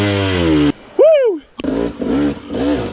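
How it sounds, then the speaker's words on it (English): A KTM dirt bike revs hard through a narrow rocky passage: close, loud engine bursts climb and fall in pitch, broken by a sudden cutoff and brief pauses before the engine picks up again in quick throttle blips. "Today's episode of squeezing dirt bikes through holes they shouldn't go through."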